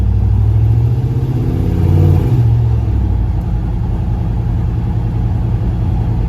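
A turbocharged Dodge Caravan LS with a seized wastegate cruises gently, its engine giving a steady, loud mid-pitched drone and rumble with a brief rise in revs near the start, then settling into an even hum.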